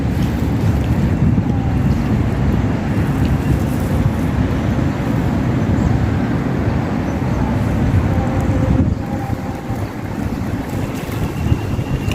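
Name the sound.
strong wind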